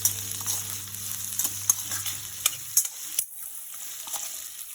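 Cashews, coriander seeds and peanuts stirred in a pan for an Andhra-style masala curry, giving a steady high sizzling hiss with scattered scraping clicks; a low hum drops away midway, leaving the hiss alone.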